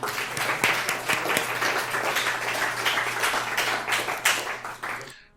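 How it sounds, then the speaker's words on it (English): A conference audience at a security event gives a sustained round of applause, dense and even clapping from many hands that cuts off abruptly at the end. "let's give him a round of applause anyway"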